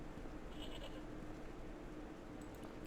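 A goat in Broken Sword gives a short, faint bleat over steady low background ambience.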